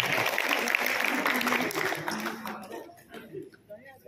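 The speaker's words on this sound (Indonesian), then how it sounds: "Tepuk tangan buat Anda semua Bapak Ibu ya." Seminar audience in Bandung clapping in a hall, a busy burst of applause that thins out after a couple of seconds, giving way to scattered claps and a speaker's voice near the end.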